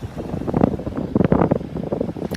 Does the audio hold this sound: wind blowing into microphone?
yes